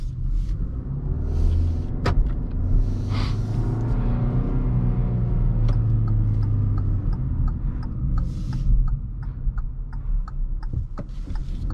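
A 2021 Kia Rio LX+ with a six-speed manual transmission drives along the road, giving a steady low engine and road rumble throughout, with a few light clicks and knocks from the cabin.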